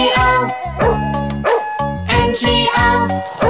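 Cartoonish dog barks in a children's song, several bright rhythmic woofs set to a jingly musical backing, close and loud.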